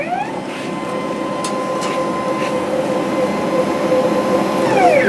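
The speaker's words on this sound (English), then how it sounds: "move the gantry forward and back a few times to spread the lubrication" A Next Wave Shark HD5 CNC gantry travels forward and back along its lubricated lead screw, giving a steady mechanical whine and hum that rises slightly as it moves, with a few faint clicks.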